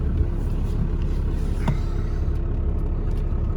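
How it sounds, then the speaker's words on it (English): Cummins diesel truck rolling slowly forward, a steady low engine rumble with continuous broadband road and drivetrain noise, fairly close and constant throughout with no talk over it. "I'm gonna move my truck down a little bit, and you'll see that the speedometer won't even move"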